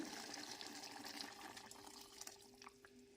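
Water splashes and gurgles steadily into a cooking pot with rice, a soft continuous pour close by with small bubbling spurts toward the end.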